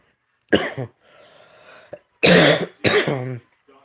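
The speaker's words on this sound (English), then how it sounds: "Still got the cough" A couple of harsh, close coughs with a throat clear, separated by brief quiet gaps.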